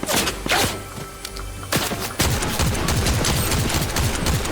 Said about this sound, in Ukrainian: вже хтось стріляється